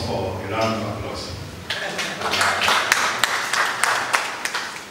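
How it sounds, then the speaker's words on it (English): After a few seconds of talking, an audience at a press conference for the movie The Oratory breaks into scattered clapping that builds into sharp, close applause. "This is where I pause for a round of applause."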